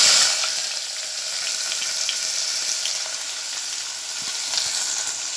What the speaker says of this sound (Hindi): तेल गरम हो चुका है। अब मैं उसमें प्याज डालूँगी।